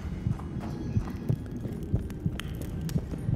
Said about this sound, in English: It's actually freaking me out a lot that we can hear our heartbeat.